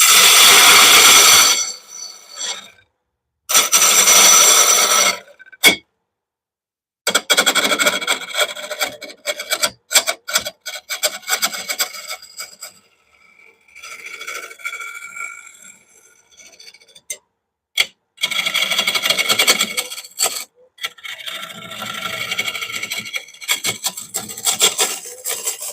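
Oak burl bowl spinning on a wood lathe as the gouge draws toward the middle, loud close scraping and rasping cuts in bursts separated by brief silences, with tone shifting as the tool moves.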